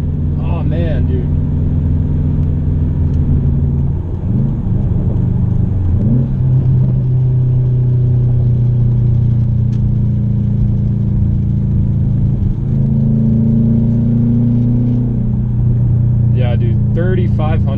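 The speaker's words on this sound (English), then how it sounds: "That's exactly what I wanted this car to sound like." Straight-piped 2013 Subaru WRX exhaust with a deep, loud droning rumble that rises and falls through several revs, close to the car, with brief excited talk at the start and end.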